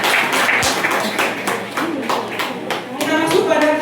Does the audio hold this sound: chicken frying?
no